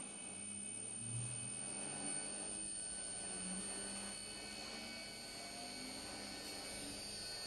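An electric motor on a type DT VFD inverter runs in reverse, giving a steady, quiet whine with constant tonal hum and no voices.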